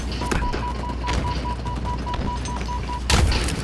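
Gunfire in a battle video game, with dense, rapid shots and bursts from several weapons crackling continuously and loudly, growing heavier near the end; no talking.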